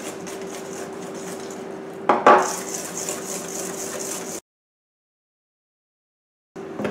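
Cake batter being mixed in a bowl as flour goes in little by little, with a few clinks of utensil on bowl and scraping stirring at moderate volume, then a sudden cut to silence before the sound briefly returns.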